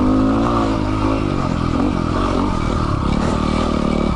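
Yamaha WR250R dual sport motorcycle engine revs loudly and close, a steady raspy drone with some mechanical clatter, no talking.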